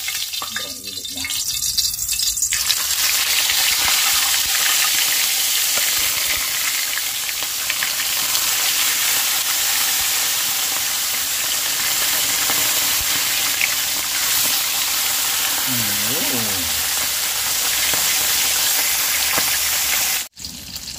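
Fish in oil on high heat bubbles and sizzles loudly and steadily in a pot throughout, with a brief clatter near the start and a sharp knock at the end.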